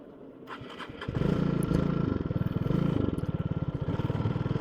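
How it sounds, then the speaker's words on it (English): Motorcycle engine starting from a low idle, then revving hard and holding against the rev limiter, giving a loud, rapid stuttering pulse close to the microphone that continues to the end. "it turns out that there is a rev stop on this bike"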